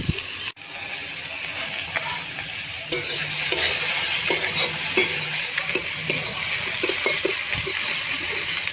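Chilies and a little garlic sizzle steadily in a hot pan, a continuous crackling fry with occasional scraping stirs and small clinks, close up and with no talk.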